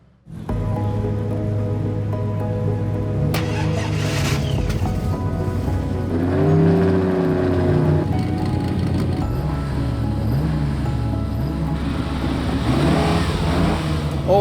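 An old racing car on the Tour Auto 2023 idles roughly while warming up, then its engine is revved repeatedly in rising and falling bursts, loud and close throughout.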